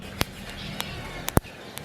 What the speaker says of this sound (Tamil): இப்போ பார்த்தீங்கன்னா நல்லா பெருஞ்சீரகம் வெடிக்கிற சத்தம் உங்களுக்கு கேட்கும்.